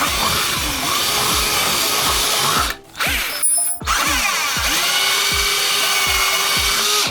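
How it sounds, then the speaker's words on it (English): A power drill with a larger bit bores out a hole for a toggle switch in a truck, whining loudly up close with rhythmic bit chatter, briefly stopping and restarting midway. "I'm gonna go ahead and take the bigger drill bit and kind of bore it out"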